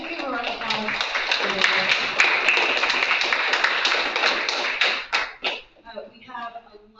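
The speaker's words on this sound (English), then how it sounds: "Can we give a round of applause?" Indoor audience applause at a city State of the City event, dense clapping from a crowd that swells and then trails off into scattered claps, with voices heard near the end.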